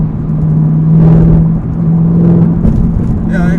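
ZL1 Camaro exhaust droning in fifth gear at 60 mph, a steady low hum and rumble heard from inside the car with a brief swell midway.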